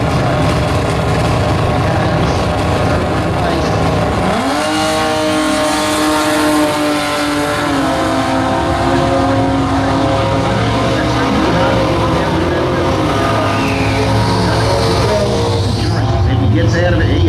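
Two drag racers, a Chrysler Centura and a Ford XY, roar off the line at a Winter Nationals SST meet, their loud engines rising and holding through the run while a commentator talks over them.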